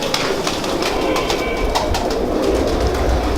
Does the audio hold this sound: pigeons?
yes